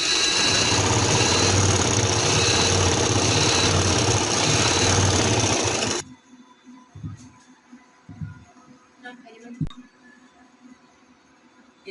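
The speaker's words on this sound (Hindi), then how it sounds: "इस तरह से ये मैं ऊपर भी सिलाई लगा लूंगी" Sewing machine stitching a winter capri, running loud and steady for several seconds and then stopping abruptly, followed by quiet handling bumps and a sharp click.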